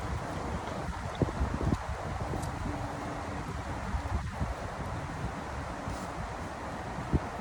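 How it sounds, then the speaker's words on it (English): Steady outdoor wind blows as a broad, continuous rush near the microphone, with a few faint taps and rustles scattered through it and no voices. "It is a little windy out here"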